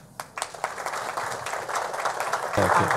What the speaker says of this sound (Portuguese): vamos recebê-lo com aplauso